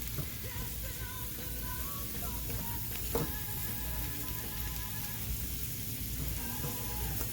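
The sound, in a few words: Reuben sandwich sizzling as it heats in a pan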